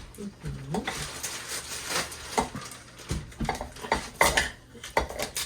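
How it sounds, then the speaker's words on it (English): A knife chops through a block of shea butter on a hard surface during soap making, giving a string of close, irregular knocks and scrapes with a person talking over it. "I'm just chopping up the shea butter so that it melts a little bit faster"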